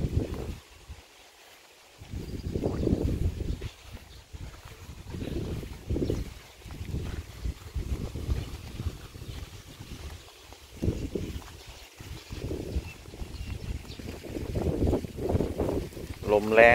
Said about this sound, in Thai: ลมแรงหน่อยนะครับเพื่อนๆ